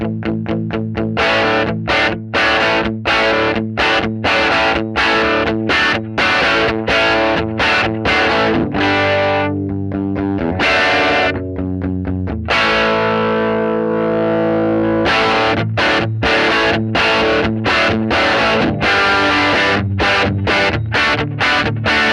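Distorted electric guitar through an Axe Fx III 59 Bass Guy Jump amp model with a factory cabinet, loud chugging chords and riffs with choppy rhythmic stops, a few held notes midway, gritty and close throughout.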